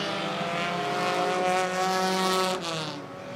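Mini stock race cars at Ohsweken Speedway drag race toward the finish line, their engines a loud, steady droning roar that swells and then drops away as they pass.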